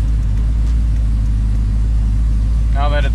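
A Ford Lightning truck with a race valve body, its engine running at a steady low rumble, loud and close throughout, with a brief voice near the end.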